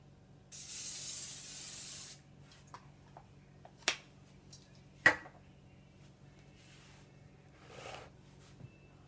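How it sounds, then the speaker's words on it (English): A short hissing burst of cooking spray up close onto a hot cast iron skillet, followed by a few sharp clicks and taps, then quiet. "I'm going to spray it down with some cooking spray."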